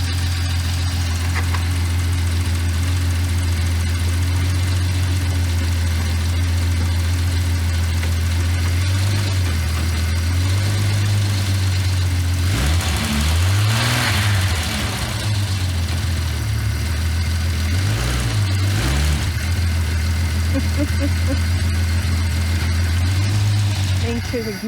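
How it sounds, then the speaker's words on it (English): A Jeep Cherokee that sat for over a decade idles with a steady low engine rumble close by, rising in two or three brief revs midway, while people talk over it. "Now that we've got the Jeep running, we gotta get it driving."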